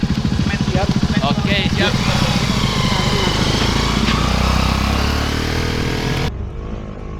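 A motorbike taxi climbs toward Mount Sindoro, its engine revving and puttering loudly up close, then dropping off near the end. People talk briefly over the engine.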